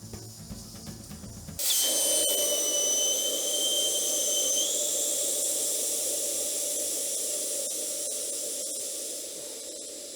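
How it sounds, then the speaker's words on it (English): Air hisses steadily out of a Michelin Road 5 motorcycle tire once the valve core is removed, a loud continuous rush with a faint whistle that begins after a short quiet lead-in and holds nearly unchanged, tapering slightly near the end. "get rid of the air, get rid of the valve core, and deflate the tire"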